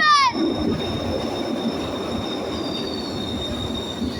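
A Glasgow Subway inner circle train arrives through the tunnel with a loud, sharp wheel squeal that sweeps down at the start, then thins into sustained high whines over a rushing, rumbling roar.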